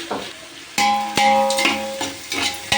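Onions frying in a pan while making prawn dum biryani at home, with steady sizzling broken by repeated stirring scrapes and clanks, close and moderately loud, no talk.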